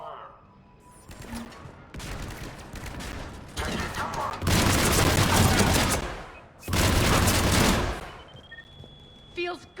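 Bursts of heavy automatic gunfire rattle in a Mass Effect firefight, with long loud volleys broken by brief pauses and a voice speaking over the shooting.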